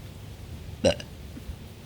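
A short, moderately loud burp outdoors in a backyard, one brief gulping burst over faint background hum, with no talk around it.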